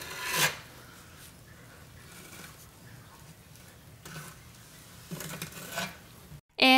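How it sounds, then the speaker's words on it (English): A trowel scrapes and rasps across cement being smoothed onto a wall, with intermittent rubbing strokes, a couple of sharper scrapes, and a loud knock at the end, close by and without talking. "smooth it out with the trowel"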